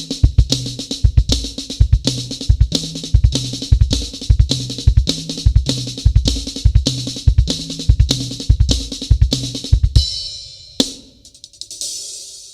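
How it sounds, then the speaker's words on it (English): Flam paradiddles played on a snare drum ring out in a steady, evenly repeating pattern of sharp grace-note-led strokes, loud and close, before the playing stops near the end with a few scattered taps. "That's the one that is inside the Flam Paradiddle on the snare drum."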